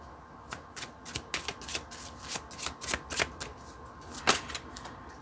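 A deck of oracle cards from the Magical Times set being shuffled by hand, a quick run of crisp riffling snaps and slaps in uneven bursts, close and clear with no talking.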